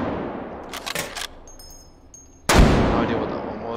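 Gunfire from armor-piercing incendiary rounds in the VR shooter game H3VR: a few faint clattering shots early, then one loud sharp report near the end with a lingering ring.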